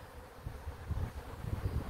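Honeybees at their hives in an English apiary in spring give a low, steady buzzing hum that swells and pulses slightly, heard close with no voices.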